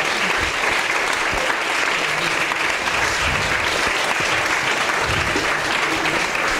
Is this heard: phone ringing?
no